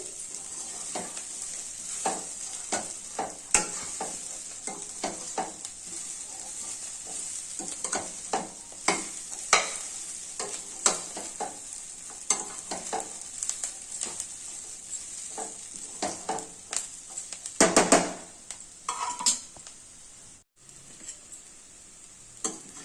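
Chickpeas with fresh grated coconut are stirred and sautéed in a pan, giving a soft steady sizzle broken by frequent light scrapes and taps of the spoon, with a louder cluster of scraping near the end and no speech.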